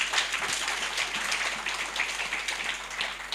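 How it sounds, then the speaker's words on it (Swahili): A church audience applauds for Jesus, dense sustained clapping from a crowd, even in level throughout, with no voices over it. "Pigieni Yesu makofi."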